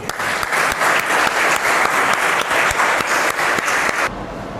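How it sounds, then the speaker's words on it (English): A school audience claps loudly and steadily for a student speaker at an assembly, with a rhythmic, full sound that stops abruptly near the end. "Please give a huge round of applause to Udit"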